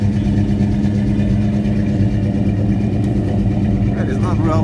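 A 1963 Mercury Comet engine runs steadily at idle with a low, continuous rumble, with someone talking over it throughout.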